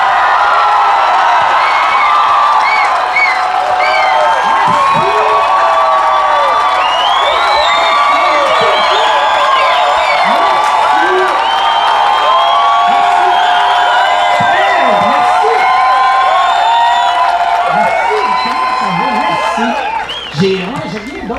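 A theatre audience at a comedy show cheers, whoops and applauds loudly and continuously as a comedian comes on stage, with a host's voice over the crowd.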